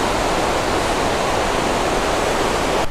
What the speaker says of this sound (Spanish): En esa zona hay varias cascadas.